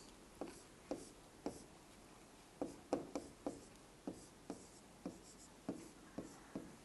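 Marker or chalk strokes drawing a lac operon gene diagram on a board during a biology lesson, a quiet series of regular scratching strokes and taps with no talking.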